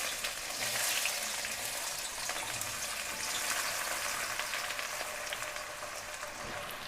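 Onions sizzling and crackling steadily in hot oil in a pan for Pakistani aloo qeema, a continuous bright frying hiss with no voices over it.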